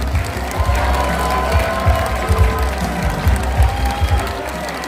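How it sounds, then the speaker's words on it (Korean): A large crowd of party members claps and cheers at a Democratic Party rally in Gyeongnam and Busan, welcoming the deputy floor leader to the stage; loud, sustained applause with low rumbling crowd noise and thumps. "진성준 원내 수석 부대표를 큰 박수로 모시겠습니다"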